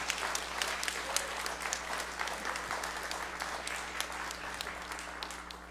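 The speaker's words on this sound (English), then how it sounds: "please give her a nice round of applause" Audience applause at an Indigenous peoples summit opening, a steady patter of many hands clapping throughout, moderately near and gradually thinning toward the end, with no voices over it.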